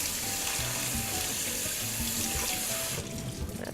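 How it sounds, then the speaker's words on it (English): Rice being rinsed in a strainer under a running kitchen tap, a steady close rush of water that shifts and splashes near the end. "just give your rice a good rinse in a strainer until the"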